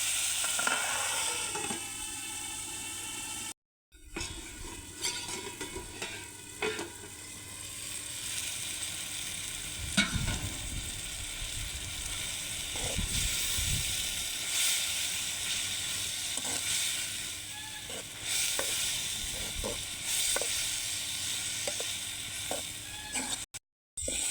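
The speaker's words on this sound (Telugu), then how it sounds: "టమాటాలు కూడా బాగా మగ్గేంత వరకు అలాగే పెడదాం" Tomatoes cook down in a raw prawn and leafy greens curry, making a soft steady sizzle with faint bubbling and occasional clicks and pops. It sounds close but fairly quiet and continues for a long stretch with two brief dropouts.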